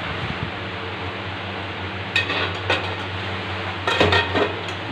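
A lid goes onto a cooking pot of potatoes, aubergine and water in a home kitchen, giving a few sharp metallic clinks and clatters over a steady fan-like background hum.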